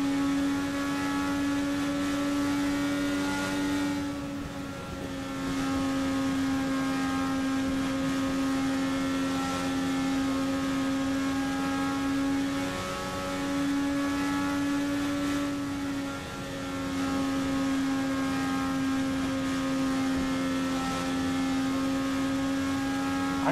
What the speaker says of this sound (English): I am in love with that car's sounds